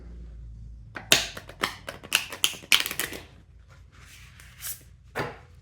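Tarot cards are shuffled by hand in a quiet room, giving a run of crisp, close riffling and slapping snaps, followed by a pause and a few softer shuffles.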